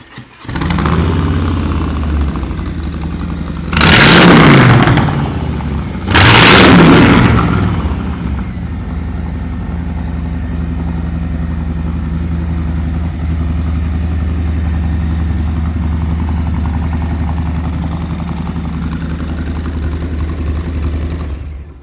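A Harley-Davidson Softail Street Bob (2020, 107 cubic-inch engine) idles with a deep, lumpy rumble, revved twice sharply early on before settling back to a steady loud idle.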